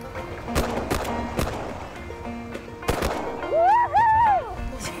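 Shotgun blasts fired at incoming ducks on a family waterfowl hunt in British Columbia: several sharp, loud reports, some in quick pairs, spread across a few seconds, with people talking and calling around them.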